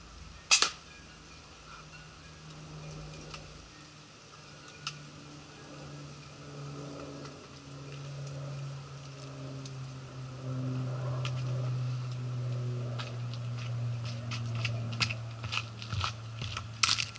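A Talon Tunes Gen 6 shrouded air rifle fires several muted shots, sharp short cracks spaced irregularly over a low steady hum of background noise.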